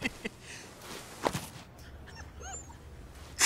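In the video game Like a Dragon: Ishin!, a dog whimpers and yips in short, faint bursts with a few soft sharp barks and light movement sounds between them, ending on a louder bark.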